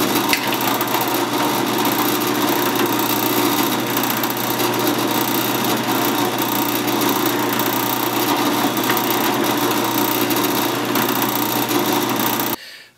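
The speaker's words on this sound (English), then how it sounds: "Now I want to set my stop on the drill press so that I don't go all the way through" A drill press bores through wood with a stop set to keep it from going all the way through, producing a loud, steady whine and grinding that holds evenly for about twelve seconds before cutting off abruptly.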